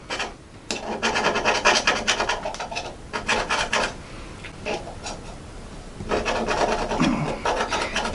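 Rubbing the sharp 90-degree spine of a thin BCMW HT3 10V chopper blade against a surface: repeated rasping, filing strokes in uneven bursts, close and fairly loud, with short pauses between runs of scraping.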